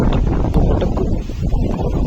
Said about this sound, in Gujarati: પવન આવ્યો મસ્ત